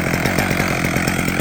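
A chainsaw runs at steady revs on an off-grid Alaska homestead while firewood is hauled, a loud, close, continuous engine drone with no voices.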